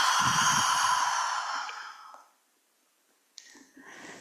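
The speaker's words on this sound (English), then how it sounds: "Exhale." A long, audible breathy exhale during a breathing practice, loud at first and slowly fading into silence, followed by a soft click and faint room noise.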